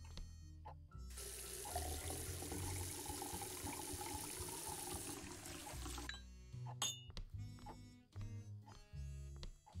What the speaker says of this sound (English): water you just get from the sink